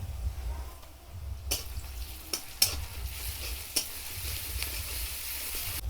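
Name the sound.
ginger-garlic paste frying with onions in a wok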